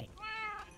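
A single drawn-out cat meow from the Minecraft video game, clear and fairly close, rising and then falling over less than a second.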